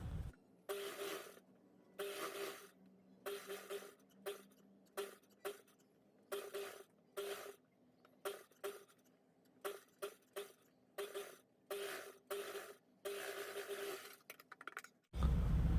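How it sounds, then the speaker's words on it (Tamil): Sewing machine stitching along the round neckline of a blouse, heard as repeated bursts of fast whirring, each lasting a second or so, with short pauses between them and no talk. "ஓரமாக வந்து தையல் போடுறேன்"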